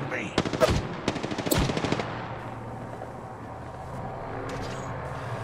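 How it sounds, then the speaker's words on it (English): Apex Legends gunfire: a rapid automatic burst of close shots, then a second string of shots, fading into quieter in-game ambience with a distant crack near the end. "Getting shot at. I am taking fire, friends."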